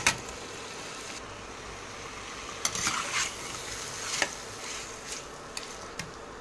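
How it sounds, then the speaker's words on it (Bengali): Chicken pieces fry in a pan with a paste of ginger, chili, onion and garlic, giving a soft, steady sizzle broken by several scrapes and clinks of stirring, faint and close. "এবার এর মধ্যে চিকেনগুলো দিয়ে ভালো করে কষিয়ে নেব।"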